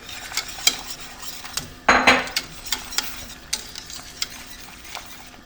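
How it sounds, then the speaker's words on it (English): Polenta is whisked in a pot: a run of light, rhythmic whisk clicks and taps close by, with one louder scraping clatter partway through. "I'm gonna whisk it in"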